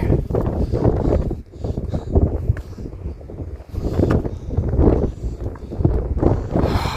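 Gusty wind buffets the microphone in a carved sandstone wash near Fisher Towers along the Colorado River, rising and falling in loud, rumbling surges with no talk heard.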